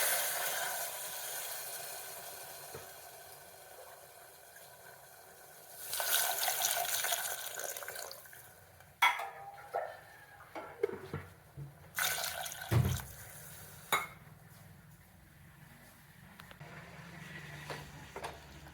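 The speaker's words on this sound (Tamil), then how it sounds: "இப்போ 3 டம்ளர் தண்ணி விடுவோம்." Water poured from a tumbler into a cooking pot of rice and dal, heard as splashing, gurgling bursts with pauses and occasional knocks, fairly faint and close, with no talking.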